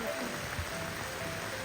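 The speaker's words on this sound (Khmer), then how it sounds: "because it's raining" Rain falls steadily on Koh Sdach island in Cambodia during the rainy season, making an even, close hiss of drops on surfaces that runs unbroken from start to end.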